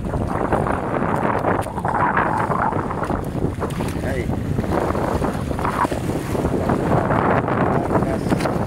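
Strong wind roars over open sea around a small fishing boat, a loud, steady blast of broadband noise buffeting the microphone, with water rushing beneath and a brief exclamation from a man.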